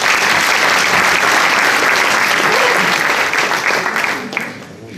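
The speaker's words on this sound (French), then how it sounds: "Vous l'applaudissez, s'il vous plaît." Loud, dense audience applause at a municipal election meeting as a candidate is called up, steady for about four seconds and then tapering off near the end, with a little crowd noise underneath.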